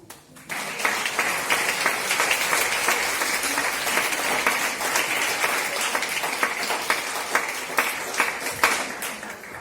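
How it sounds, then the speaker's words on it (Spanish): Steady applause from a church congregation, many hands clapping loudly and continuously for several seconds. "Denle un aplauso al Señor"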